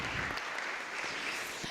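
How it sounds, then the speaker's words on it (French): Audience applause at a conference on women's burnout greets a labor-law attorney speaker, a dense, even wash of clapping from a seated crowd, steady and moderately loud throughout. "Merci d'applaudir Marie-Paul."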